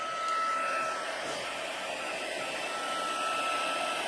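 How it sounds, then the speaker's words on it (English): A craft embossing heat gun blows steadily, a close, even whooshing hum like a hair dryer that holds unbroken for the whole stretch. "the embossing gun still, yeah, it still feels fairly warm, so I can just go right ahead and start to emboss."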